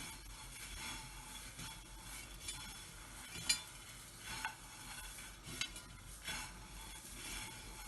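Angel hair pasta is tossed with oil by hand, giving soft, faint, close-up squishing and rustling in an uneven rhythm, with a few small clicks and clinks and no talking.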